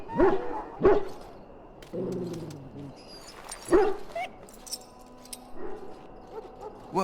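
A dog in the Dragon Age Origins game barks and yips several times, then gives a whimpering whine, under game dialogue and background ambience.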